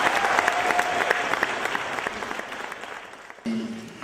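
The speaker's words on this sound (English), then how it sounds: "Let's put our hands together and give a round of applause to Mr. Robert Battles." Audience applause at a Juneteenth Real Father Awards presentation, honoring Mr. Robert Battles; clapping and cheers start strong, then fade over a few seconds before cutting to a quieter tone.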